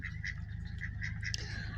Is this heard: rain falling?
no